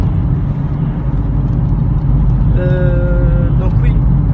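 A car drives along a 70 road during a driving lesson, a constant low road and engine rumble throughout, with a brief higher tone like a horn or whine near the end.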